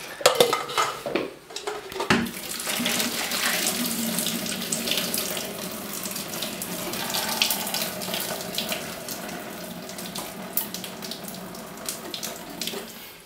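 Cooked pasta is drained into a kitchen sink. Water pours and splashes steadily for several seconds with metallic clatters from the pot and colander, and no talking.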